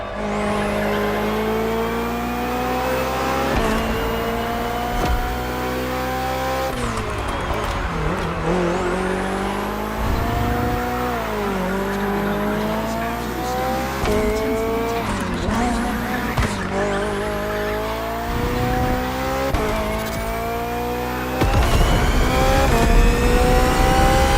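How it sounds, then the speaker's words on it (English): BMW hybrid V8 race car in The Crew Motorfest, its engine roaring close and loud through repeated upshifts and revs, with tire squeal and skidding during hard cornering, continuous for the whole stretch. "The Hybrid V8 will do the rest."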